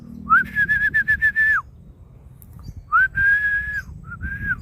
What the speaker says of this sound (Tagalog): Kaya kailangan din nating sumipol.